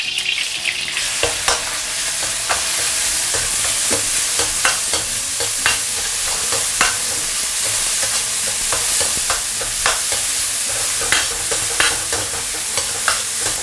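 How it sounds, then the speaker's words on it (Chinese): Diced meat stir-fried in oil in a wok for a home-style dish, with continuous loud sizzling and regular sharp scraping strokes of the spatula through the whole stretch, no talking. "烧一点肉丁，"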